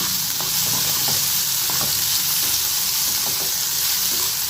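Onions sauté steadily in a hot pan for a paneer butter masala, a constant close sizzling hiss broken by scattered scraping clicks as they are stirred. No one speaks.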